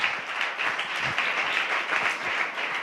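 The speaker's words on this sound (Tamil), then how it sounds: "நல்ல கைத்தட்டி ஆண்டவருக்கு நம்ம நன்றி சொல்லுவோம்." Worshippers in a church service clap their hands in thanks to the Lord, a sustained, even wall of applause from a gathered congregation that continues throughout without talking.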